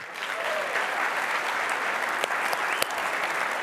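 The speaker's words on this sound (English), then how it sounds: "If you're Air Force, clap your hands." Air Force members in a large conference audience clap their hands, a broad sustained round of applause from many people filling the hall evenly, with a few sharper claps standing out near the end.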